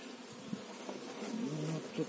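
Carniolan honeybees at a beehive give off a faint, continuous buzz, with a few individual bees droning briefly louder as they fly close.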